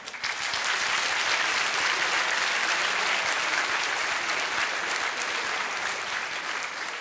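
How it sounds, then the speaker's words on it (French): Steady, dense applause from the audience at a marketing master's graduation ceremony, sustained and even throughout with no talk over it. "applaudissons-les également bien fort"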